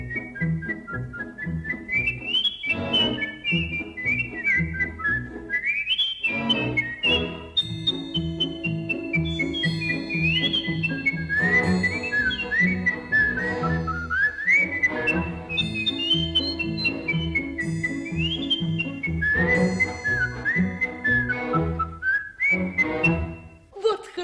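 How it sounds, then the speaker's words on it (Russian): Someone whistles a lively, wandering melody up close, the pitched tune sliding and trilling continuously over a low background accompaniment. "Свистел таким образом"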